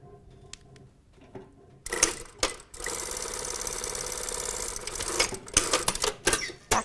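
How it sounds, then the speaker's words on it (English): After a quiet start, a sewing machine stitches the shoulder seams of a box top toile, whirring in a steady run of about three seconds, then a few short clicking bursts as the ends are tacked. "We're now stitching the shoulders of the front and the back panels together, right side to right side"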